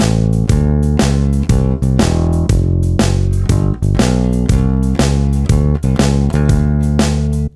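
At 120 BPM, a bass guitar plays a 12-bar blues turnaround as a brisk, unbroken run of plucked notes with a deep low end, loud and close with no talk.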